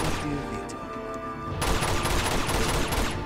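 Dense automatic and minigun fire in the video game Uncharted 2, continuous rapid shots that grow louder and denser partway through, with no talk over it.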